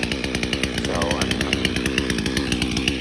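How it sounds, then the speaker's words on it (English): A chainsaw cuts through hard, dirty rounds of wood, its engine roaring loud and steady with a rapid pulsing chain rhythm throughout. "gonna use the chainsaw to get some of that big piece, the big side of the wood out."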